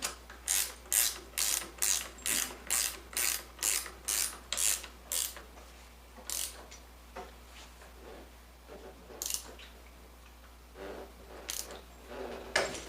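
A ratchet wrench tightens the axle nuts on an XR70 CRF70 motorcycle, giving a quick run of regular close clicking strokes, then slower, scattered ratchet clicks and rubbing.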